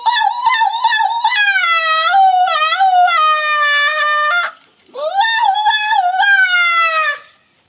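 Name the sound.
man imitating a jackal's call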